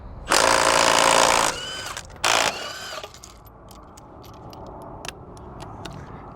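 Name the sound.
removing truck wheels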